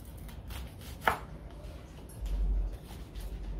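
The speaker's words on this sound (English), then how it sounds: "So we cut the onion round." A knife chops a red onion on a cutting board for a salad, soft repeated close chops with one sharper knock, no talking.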